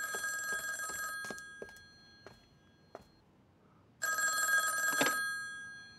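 A telephone bell rings in a house, one long ringing burst, a pause with a few faint ticks and knocks, then a second burst starting again, loud and close with no voices.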